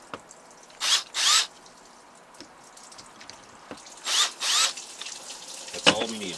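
A drill on low speed with a 3/16 inch steel bit bores into natural stone for a toggle-switch cover, giving two pairs of short, loud grinding bursts separated by quiet pauses and a few small clicks.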